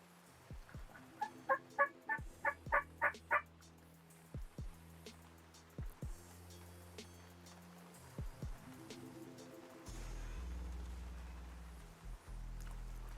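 Wild turkeys gobble from the far end of a field beside a cut cornfield at the edge of timber, a rapid rattling burst followed by scattered distant gobbles, with a low rumble rising near the end.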